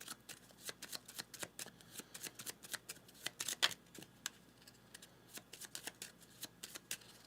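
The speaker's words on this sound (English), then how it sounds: "so now we have to shuffle" A deck of cards being shuffled up close, with repeated crisp riffling bursts in an irregular rhythm against quiet surroundings and no talking.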